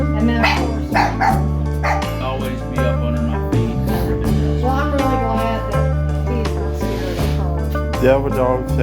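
A dog barks and yips repeatedly among people and a goat, the calls mixed with voices and a steady tonal background hum throughout.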